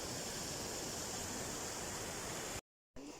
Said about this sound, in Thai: น้ำตกโคตรสูงเลย